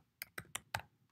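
Computer keyboard keys tapped quickly on a Mac while quitting the Vim editor, five sharp close clicks in a fast irregular burst against a quiet background.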